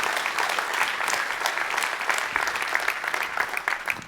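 Sustained applause from a conference audience at JCon, a dense, steady wash of many hands clapping throughout, fairly loud and with no talk over it.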